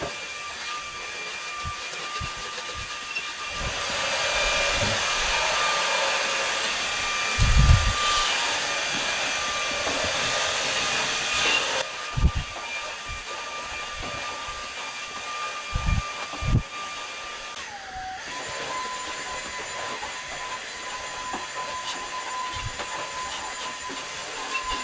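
An Orfeld WB08 cordless vacuum cleaner runs steadily with a bright, hissing whine, broken by a few soft thumps and a brief dip in pitch late on. No one speaks.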